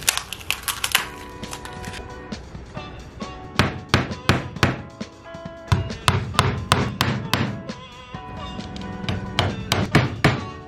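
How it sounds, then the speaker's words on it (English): Nails are driven into marked spots on house boat hull framing in a garage, with sharp hammer blows landing in quick clustered bursts, close and loud, separated by short pauses. "drive a nail into every one of these spots that I've marked"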